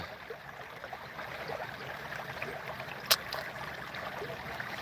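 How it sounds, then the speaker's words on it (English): Quiet, steady trickle of flowing stream water outdoors, soft and continuous, with one brief sharp click partway through. "I just want to know if you can hear the water."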